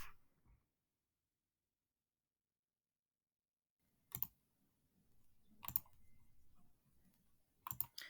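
Someone taps a computer keyboard in a few sparse, isolated clicks separated by quiet gaps, close and faint.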